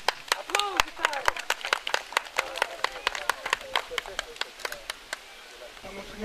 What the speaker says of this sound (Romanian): Bravo! Aplauze tare!